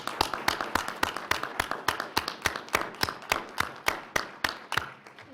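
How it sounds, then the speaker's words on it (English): Clapping at a county commissioners board meeting, heard as a sparse, regular run of distinct claps, roughly four per second, from only a few hands rather than a full crowd, moderately close. "I think that deserves a round of applause."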